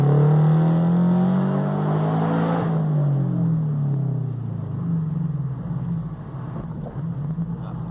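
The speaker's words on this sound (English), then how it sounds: "I'm gonna show you a little boxer rumble, why I love it" Boxer engine of a Subaru BRZ fitted with a Borla unequal length header, pulling hard in second gear through an underpass: a loud, steady low rumble that climbs in pitch, eases briefly, then continues droning close by without talk.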